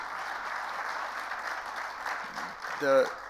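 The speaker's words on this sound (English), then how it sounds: "another round of applause for Ben and that program." Audience applause at a Board of Councilors meeting, a soft, steady patter of clapping across the room, with a voice breaking in near the end.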